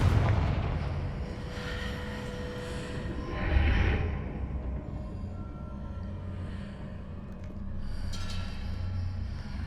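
Confringo blasting spells going off in the Hogwarts Legacy video game, a steady rumbling roar of explosions with a louder burst near the middle and another swell toward the end, with no talking.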